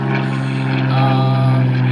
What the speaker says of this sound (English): You can hear the plane going by.